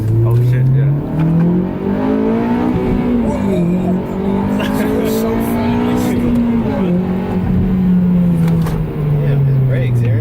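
An Acura RSX engine revving hard during a clutch kick, the tone climbing and falling with gear changes and tires squealing, loud and close, with people talking over it inside the car.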